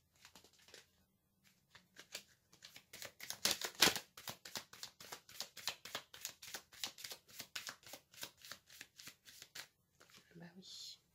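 Oracle cards are shuffled in a long run of rapid crisp riffling flicks, close and fairly quiet, building to a louder burst before easing, with a brief voice at the end.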